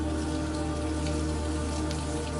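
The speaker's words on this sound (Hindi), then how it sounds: "बाहर मूसलाधार बारिश बरस रही थी।" Heavy cartoon downpour pouring outside a palace gate: a dense, steady roar of rain hissing without a break, loud and close with no voices.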